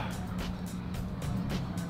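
A car drives past on the road with a steady, close motor rumble and hiss, pulsing slightly as it moves by, with no voices.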